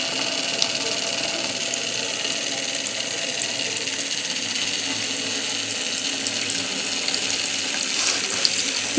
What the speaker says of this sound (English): You can see that water will start coming down.